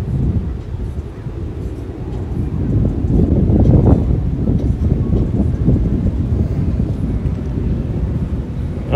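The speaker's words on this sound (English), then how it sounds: "I hear a jet behind me" A low, broad jet roar rumbles steadily in the distance, swelling slightly and fading, mixed with gusty wind buffeting the microphone.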